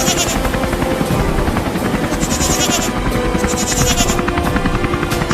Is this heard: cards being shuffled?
no